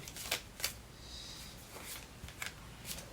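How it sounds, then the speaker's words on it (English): Tarot cards are shuffled by hand in soft, papery riffles with a few crisp snaps, close and quiet, and no one speaks. "give it another good shuffle here"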